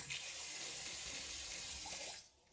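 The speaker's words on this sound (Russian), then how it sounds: "Напор воды просто замечательный." Water runs steadily from a bathroom tap with strong pressure in a tiled apartment bathroom, a constant close hiss and splash that cuts off near the end.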